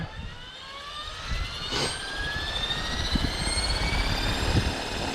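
A 500-size 500xt RC helicopter fitted with a full Dominator kit spools up on the ground, a steady whine with rising turbine-like tones that climb gradually, close and fairly loud, with no talking.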